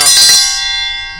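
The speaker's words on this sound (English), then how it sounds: "My dinner bell." A metal triangle dinner bell struck at an outdoor market fair rings out loud and close with a bright metallic clang, then decays over about a second.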